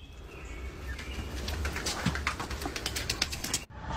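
A pigeon coos softly in a garage amid low background noise, with a few short calls heard close and fairly quiet, no talking.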